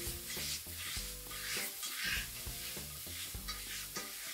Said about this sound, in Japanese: ここも炒めるというかもう混ぜるでいいです